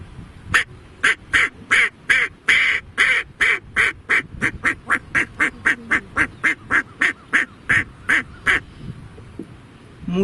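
Duck quacking alone in a long steady series of about twenty evenly spaced, loud, close calls, with no other sounds around them.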